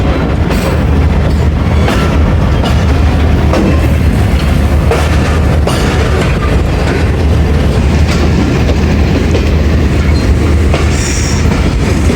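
A train runs steadily along the tracks near a station yard with several lines, its continuous loud rumble carrying rhythmic wheel clatter and brief squeals throughout.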